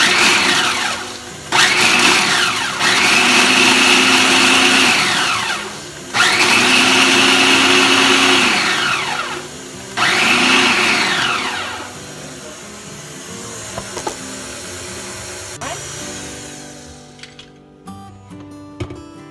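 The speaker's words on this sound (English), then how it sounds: "15 Oreos in my food processor. I just keep pulsing until I get crumbs." A food processor grinds 15 Oreo cookies into crumbs in three loud, close pulses of several seconds each, followed by quieter rattling and scraping as the bowl is handled.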